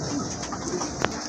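White Bombay pigeons coo in a pen among other birds, a steady soft murmur of calls with one sharper burst near the end, fairly close.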